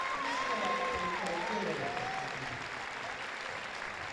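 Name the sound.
crowd cheering and applauding for Malaysia futsal team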